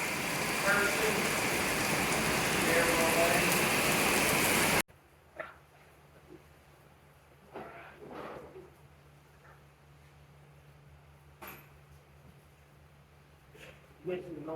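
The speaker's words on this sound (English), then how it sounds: "Oh man, it's rained all over me." Steady dense rain pours down outdoors during bodywork on a 1975 Chevy C10, loud and continuous for about five seconds before cutting off to a quiet scene with a few faint knocks and movements.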